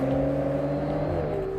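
A new Aston Martin Vanquish V12 engine hums with steady, tonal running and a slight pitch drop near the end, close and fairly loud, with no voices over it.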